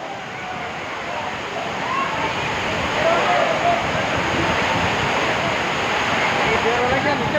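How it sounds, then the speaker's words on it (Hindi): Heavy stormy rain pouring down at a market yard in Mandsaur, a constant dense roar of water that builds slightly and holds steady, with no gaps or other distinct sounds. "मंदसौर भयंकर बारिश, तूफानी बारिश बोल सकते हैं"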